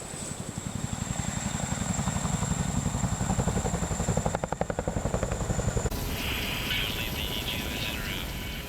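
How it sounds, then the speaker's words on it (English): Chinook military helicopter in flight, a deep rhythmic rotor thump with a steady engine whine, loud and continuous, changing in tone partway through as if the vantage shifts; no talk is evident. "Because the Chinook is an extremely large aircraft, it requires a crew of 4."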